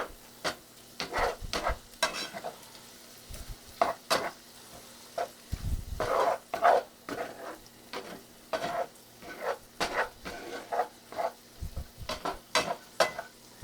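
Shrimp tossed and stirred in a hot pan for scampi, a steady sizzle under repeated scraping and clattering strokes of a spoon, close and moderately loud, with no talking.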